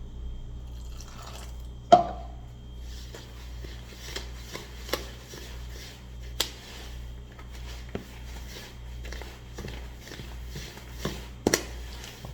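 Water added to corn bread dough, drips and small splashes landing in irregular bursts, one louder splash near the start, over a steady low background hum with no talk.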